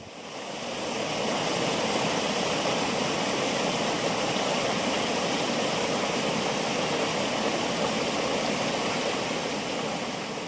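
Water cascades and falls through Little Purgatory, a small, colorful chasm shaded by a pine grove, making a loud, constant rushing roar that holds steady throughout.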